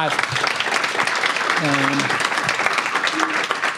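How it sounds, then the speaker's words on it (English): An audience applauds after a startup pitch at a founder event, a dense, steady round of clapping with brief voices and tonal sounds mixed in. "Okay, big round of applause."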